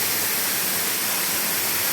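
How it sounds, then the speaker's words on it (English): Waterfall crashing onto rocks, a dense, loud, unbroken roaring rush that fills the whole stretch with no pauses and no voices. "What a beautiful waterfall,"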